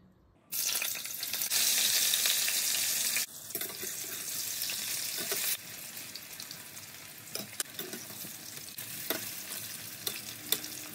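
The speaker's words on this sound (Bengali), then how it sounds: "মুইঠাগুলো এদিক ওদিক করে ভেজে নিয়েছি" Fish koftas of chital fish fry in very hot mustard oil, a loud hissing sizzle that drops to a softer, steady crackle, with a few sharp clicks toward the end.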